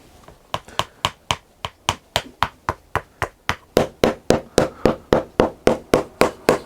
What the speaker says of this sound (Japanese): ここにトップリフトを貼り付けてこう叩き込むと釘がトップリフトの裏から刺さって固定される